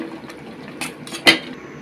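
A spoon stirs chicken, tomatoes and potatoes in a pot, giving a few soft scrapes and one sharp metallic clink against the side, brief and close.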